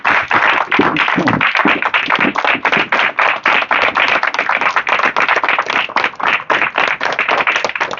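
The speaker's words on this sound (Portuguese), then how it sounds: "pediria a vocês que se levantassem também, doutor Henrique, para que vocês recebessem o aplauso desta comunidade" Audience applause fills a hall during an academy of letters induction ceremony: dense, steady clapping from many hands, loud and continuous with no voices over it.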